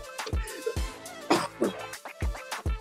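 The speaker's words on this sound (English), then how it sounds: "I have a little cough." A man's short, dry coughs, several in an irregular burst, close and fairly loud, with faint breaths between them.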